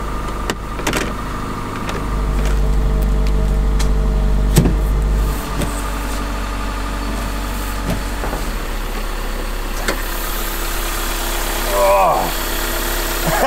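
A Beetle's engine idles while warming up, a steady low rumble and vibration running throughout, with people talking nearby over the drone.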